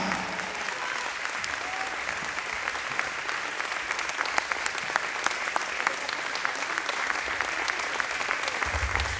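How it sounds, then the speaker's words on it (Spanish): Sustained audience applause at a church gathering, steady dense clapping from a crowd that holds at an even level for the whole stretch without fading. "Un aplauso a Jesús nuestro Señor"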